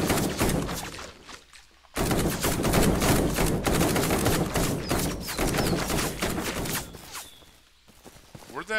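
Rapid, dense gunfire from a weapon in the video game Bad Way, a short burst, then a brief gap and a sustained, loud stretch of overlapping shots that thins out near the end.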